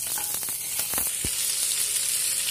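Nigella seeds and chili tempering in hot oil give a steady close sizzle with a few sharp pops and crackles near the start, then settle into continuous frying hiss.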